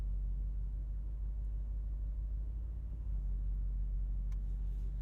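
Mercedes-AMG SL 63 engine idling low and steady while the car backs up, a deep continuous rumble heard from inside the cabin with no talk.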